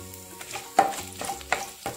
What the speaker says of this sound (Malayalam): നമുക്ക് അതിലേക്കൊരു 2 ടീസ്പൂണോളം ഉഴുന്ന് പരിപ്പ് ചേർത്ത് കൊടുക്കാം